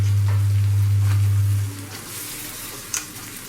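Rice fries and gets stirred in a hot pan, a steady close sizzle with scraping stir strokes and one sharp clink near the end, over a low hum that cuts out partway through.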